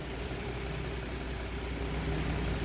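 A Ford F-150 pickup engine, a truck that cranks but won't start, idling low with a steady, even rumble and hum that holds close and constant with no talk over it.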